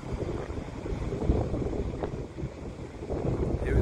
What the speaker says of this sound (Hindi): और हवा देखो, हवा की आवाज सुन रहे हो